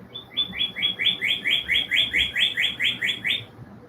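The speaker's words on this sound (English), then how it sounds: "It's actually a blue jay." A blue jay gives a quick run of about a dozen sharp, evenly spaced high calls over roughly three seconds, clear and fairly close above a soft background.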